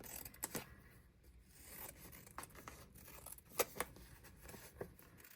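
Paper snipped with scissors to make bullet journal tabs, a quiet run of short crisp cuts and rubbing rustles with a few sharper snips near the end.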